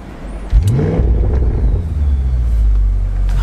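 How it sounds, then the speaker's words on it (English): Volkswagen Golf Edition 30 engine just after a warm start, a sudden loud starter burst settling into a steady deep rumbling idle with a faint rattle, close by. "The whole car just sort of rumbles and rattles."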